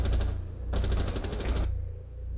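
Rapid automatic gunfire in Rainbow Six Siege, two loud bursts of shots separated by a brief gap, followed by quieter game ambience.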